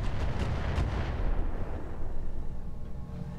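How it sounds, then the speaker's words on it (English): A heavy weapon shot in the mech combat game Roguetech, a booming blast with a few quick cracks at the start, then a long low rumbling decay, loud and close. "I'm taking the shot."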